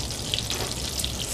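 Salmon fries skin side down in a stovetop pan, giving a steady, close crackling sizzle with scattered pops and spits throughout.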